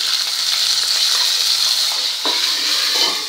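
Green chilies dropped into hot oil with frying curry leaves for a traditional potato bhaji make a loud, continuous sizzle, with a sharper crackling burst near the end as they hit the pan.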